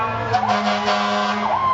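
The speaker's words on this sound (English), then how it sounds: "here comes some more fire engines" Fire engines pass during an Independence Day parade in Braintree, sirens wailing with a loud sustained horn-like tone and rising sweeps, close and filling the street, with faint voices underneath.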